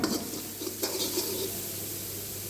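Vegetables, beans and chopped celery being stir-fried in a pan for a Manchow soup, a steady soft sizzle with faint stirring scrapes, fairly quiet and continuous.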